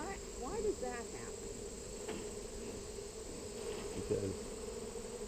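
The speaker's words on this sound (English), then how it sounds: "There's though. also a swarm of bees hanging off right there" Honey bees from an opened hive, with a swarm hanging nearby and smoke in use, make a faint, continuous insect buzz heard outdoors beneath people talking.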